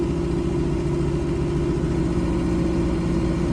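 Tractor engine held at high revs with the PTO engaged and the mower spinning at about 540: a steady, loud, unbroken drone with a strong low hum, no talking.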